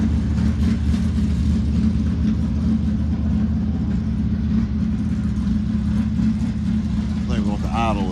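A NASCAR Winston Cup Buick race car engine with dry sump runs at a steady, loud, rumbling idle close up, with no change in pace throughout.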